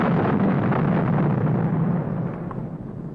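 An atomic bomb burst rolls out as a deep, heavy, sustained roar that fills the whole span and eases slightly toward the end.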